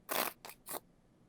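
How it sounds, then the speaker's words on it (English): A deck of playing cards being shuffled makes three quick, crisp riffling bursts, close and fairly soft, with no talk over them. "Are you shuffling cards?"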